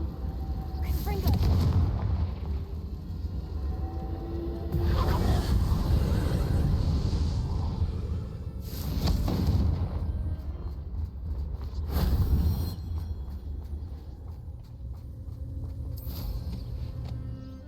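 Confringo blasting spell cast repeatedly in the video game Hogwarts Legacy during a fight, several heavy booming explosions spaced a few seconds apart over rumbling background, with a voice talking briefly.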